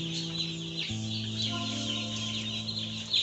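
Young chicks peeping in a heated brooder, a dense chorus of high chirps close by, with some low hum in the background.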